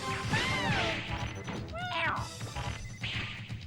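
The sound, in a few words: video game character falling, Mega Man Legends 2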